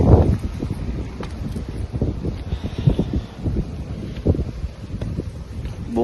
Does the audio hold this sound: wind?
yes